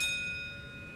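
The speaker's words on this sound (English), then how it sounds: "When you hear the bell," A bright bell chime rings once at the start of a Valvoline Instant Oil Change radio spot and rings on, slowly fading, with a steady ringing tone and no talk.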